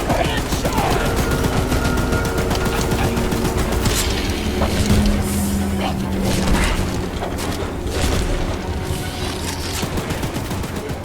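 Mounted gun firing at the monster in the horror game Choo-Choo Charles, a dense sustained fusillade of loud rapid shots and booms with mechanical clatter, running continuously throughout.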